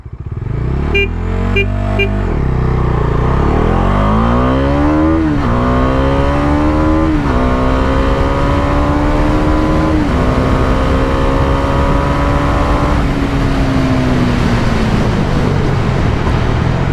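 A Bajaj Dominar 250 motorcycle accelerates hard from a standstill in a 0-100 run. The loud engine note climbs steadily through several gears, with brief dips at each upshift and no talking.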